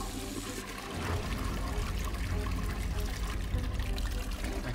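Toilet in the video game Lucius 2 giving a steady pouring, trickling water sound that swells after about a second and runs continuously to the end, fairly loud and close.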